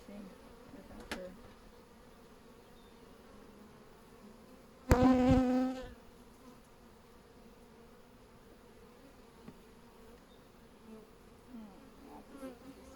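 Honey bees hum softly around an open hive in a steady low drone, with one louder bee buzzing close past for about a second midway.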